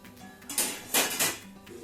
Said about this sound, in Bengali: এবার আমি প্লেটটা সরাই, দেখি কি অবস্থা মাংসটা ম্যারিনেশন করার পর।